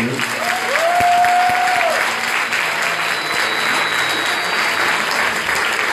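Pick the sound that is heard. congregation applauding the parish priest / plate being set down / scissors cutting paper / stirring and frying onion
congregation applauding the parish priest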